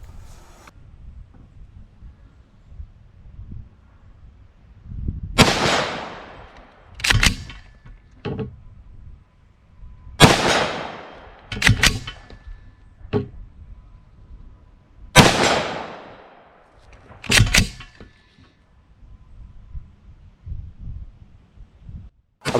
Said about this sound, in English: I was shooting steels with this rifle about just over 100 yards.